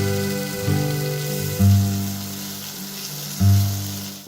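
Chicken pieces fry for butter masala in a hot pan, giving a steady, close sizzle and crackle with two louder bursts of fat hissing as the meat chars, with no talking over it.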